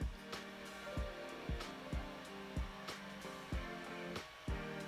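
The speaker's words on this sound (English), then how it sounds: "Oh, that sound? That's my 3D printer." A 3D printer printing a squirrel model whirs and hums steadily, with stepper motors sounding rising tonal sweeps that repeat in a regular rhythm about every 0.6 seconds, close and continuous with no talking.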